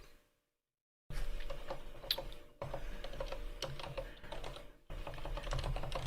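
Rapid keystrokes on a computer keyboard follow a second of silence, clicking in close, uneven bursts with short pauses, alone with no talking.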